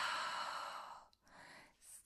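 A long, soft breath is blown out during a Pilates exercise, a steady airy exhale that tapers off, followed by a brief pause and a quieter intake of breath, close and intimate.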